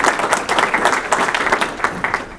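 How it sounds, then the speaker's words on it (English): Audience at a Davis County Extension ribbon cutting breaks into a round of applause, close, lively clapping with uneven peaks filling the short stretch, no talking over it. "I think we should give them a round of applause as well"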